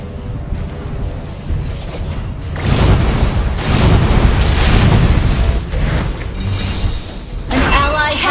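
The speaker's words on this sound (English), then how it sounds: "Your team destroyed a turret!" A turret is blown apart in the MOBA game Alice: a loud, close explosion with shattering, bursting crashes that build over a few seconds amid dense game effects, with a voice also present.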